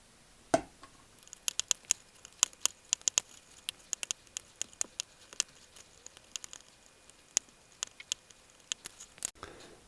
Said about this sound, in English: a sharp craft knife and we cut them out